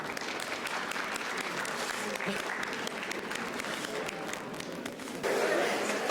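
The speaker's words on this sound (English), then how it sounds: "We have a winner. Round of applause." An audience applauds a contest winner at a talk on the Prophet's teachings, a steady wash of clapping that swells louder near the end, with voices mixed in.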